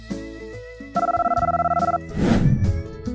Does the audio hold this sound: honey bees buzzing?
no